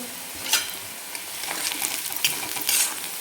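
Stirring home-made black masala into masoor dal and onion in a pan: a spoon scraping and turning the mixture with a steady background sizzle, close up, in irregular strokes with no voices.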